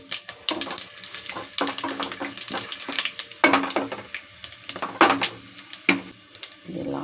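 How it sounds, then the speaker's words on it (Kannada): Whole spices crackle and splutter as they hit hot oil for a Karnataka nati-style mutton pulao tempering, a close, irregular burst of pops and sizzling with occasional clinks. "ಇವಾಗ ಮಟನ್ ಪಲಾವ್ಗೆ ಒಗ್ಗರಣೆ ಹಾಕ್ತಾಯಿದ್ದೀನಿ"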